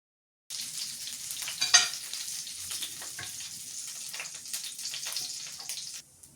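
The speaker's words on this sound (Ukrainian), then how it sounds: "І смажемо до золотистої скорінки з обох сторін." Buckwheat pancakes frying in a pan, a steady close sizzle with scattered crackles and pops throughout, no voices.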